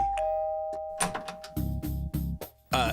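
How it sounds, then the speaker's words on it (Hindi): Electronic doorbell at the door of a flat in an apartment building, chiming several times in a row with bright ding-dong tones and short gaps between presses, loud and close with no talking. "चल, अरे बजाना घंटी।"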